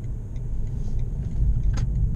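A 2017 BMW i3 with range extender accelerates along a quiet street, a low, steady rumble heard from inside the car, with no talking.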